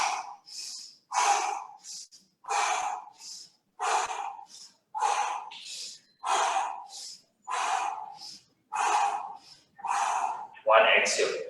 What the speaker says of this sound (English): So my breathing needs to be one inhale.